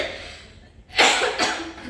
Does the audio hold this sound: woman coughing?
yes